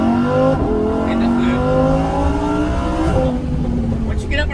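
A Lamborghini Huracan EVO engine revs hard while accelerating through the gears, a loud rising mechanical howl with a brief dip at a shift, and someone talks over it.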